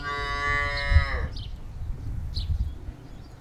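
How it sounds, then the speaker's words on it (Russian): A Yaroslavl cow gives one loud, close moo that falls in pitch and ends after about a second and a half, then farmyard rustling and faint distant calls follow. "мычание ярославских коров"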